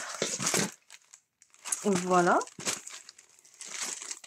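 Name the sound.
unwrapping a received parcel, crinkling packaging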